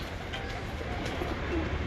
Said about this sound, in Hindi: उस्ताद अशरफ भट्टी साहब का कबूतर है, मेन कमगर कबूतर।